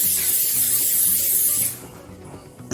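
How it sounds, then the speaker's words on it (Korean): A steady close hiss of oil spray coats a bread tray for a garlic bread, lasting about a second and a half before cutting off into near quiet, then a brief knock at the end. "빵트레에 스프레이 해주고요."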